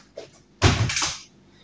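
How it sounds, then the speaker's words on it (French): A window being shut at home: a faint knock, then a loud close sliding thud with a brief rumbling tail, near and alone. "Je vais fermer la fenêtre"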